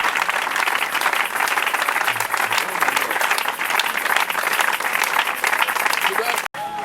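Audience applause and cheering for the Lord at a prayer gathering, a dense, steady wash of clapping from a large crowd that lasts the whole time, with voices over it and a brief dropout near the end.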